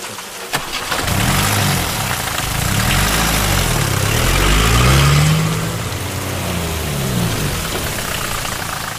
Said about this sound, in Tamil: எதுக்குடா வண்டி நிறுத்துற?